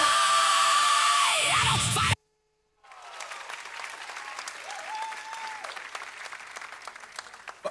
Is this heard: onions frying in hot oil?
no